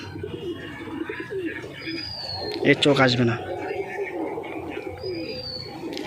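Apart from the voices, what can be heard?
pigeons cooing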